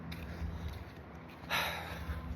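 A single soft sniff, close and fairly quiet, over a steady low background hum.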